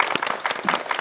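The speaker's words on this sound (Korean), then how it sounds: "모든 분들 박수로 환영하겠습니다." Studio audience in a Korean television broadcast studio applauding to welcome guests, a dense, steady patter of many hands clapping close by for the full short stretch.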